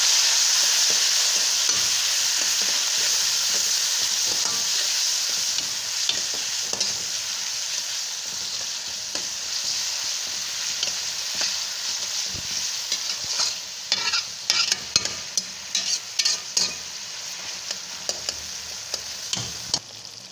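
Tomatoes and green chilies sizzle and fry in a pan for chicken biryani, a steady loud hiss with a spoon stirring and scraping through it, growing more clattery toward the end, with no voices.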